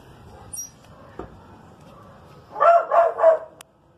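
A dog near an outdoor wood-fired Chilean-style clay oven lets out three quick, loud barks in a row, standing out clearly against a quiet background hum.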